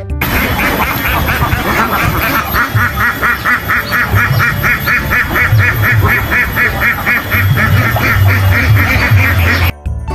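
Ducks quacking in a loud, continuous run of rapid, repeated quacks, steady and close throughout, ending abruptly near the end with no voices.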